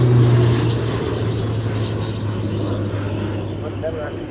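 Airbus C295 transport aeroplane with Pratt & Whitney PW127G turboprop engines flying a display at the Portrush Airshow, its steady propeller drone continuous and moderately loud throughout with a low tonal hum.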